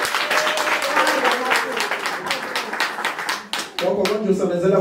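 An audience claps and cheers through a Zulu-language talk show segment. The applause is a dense, steady patter that carries on for several seconds under voices, then briefly dips before picking up again.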